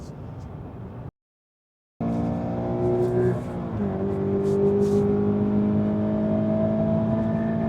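A car driven flat out on the Vallelunga race track, heard from inside with a loud, steady high engine drone that briefly cuts out, then returns and climbs in pitch as it holds full throttle through a corner.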